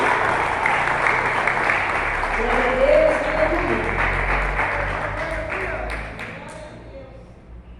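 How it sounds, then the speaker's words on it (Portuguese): A church congregation claps in praise during a service, a sustained, dense wash of clapping with a voice speaking over it, tapering off toward the end. "Vem as palmas para Jesus."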